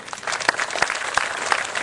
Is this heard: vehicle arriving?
no